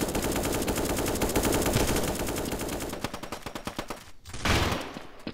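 Dual Desert Eagle pistols blast rapidly in a CS 1.6-style mobile shooter game, a dense, loud stream of gunshots that thins into separate shots before a short burst near the end.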